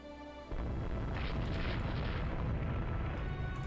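Naval shellfire in the warship strategy game Rule The Waves 2 begins with a sudden heavy boom after a brief quiet, then rolls on as a loud, continuous rumbling barrage of blasts.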